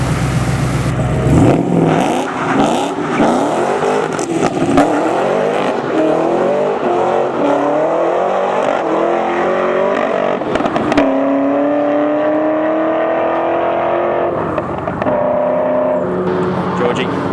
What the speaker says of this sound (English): First time I've driven the car in anger on the track